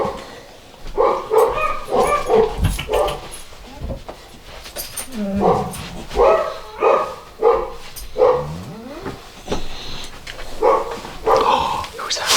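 A Catahoula Leopard Dog mix puppy barks and yips in repeated close bursts, with whimpering between, and a person talks quietly underneath.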